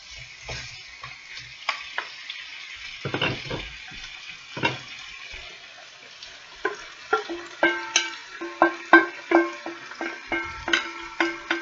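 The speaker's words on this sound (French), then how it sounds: "On mélange tout doucement pour ne pas mettre en bouillie" Vegetables are stirred gently in a hot frying pan over a soft sizzle, with a spoon scraping and clicking in irregular strokes that grow more frequent and rhythmic toward the end.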